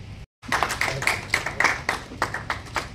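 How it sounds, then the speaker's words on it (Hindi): An auditorium crowd at a journalism day event claps loudly to welcome a guest, dense, sustained applause that starts after a brief silence and keeps going evenly to the end. "जोरदार तालियों से आप लोग इस्तकबाल करें।"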